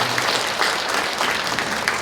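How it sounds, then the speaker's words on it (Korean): Audience applause at a symposium on a citizen volunteer participation platform: steady, dense clapping from a seated crowd that fills the whole stretch at an even level, with no talking over it. "그래서 박수 한번 쳐주세요."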